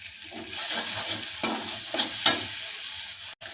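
Spice masala with cumin and coriander powder sizzling steadily in a pan while being stirred, with a few louder scrapes of the spatula, for a raw banana kofta curry; no talk.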